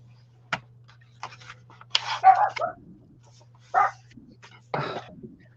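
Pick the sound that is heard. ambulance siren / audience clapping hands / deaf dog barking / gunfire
deaf dog barking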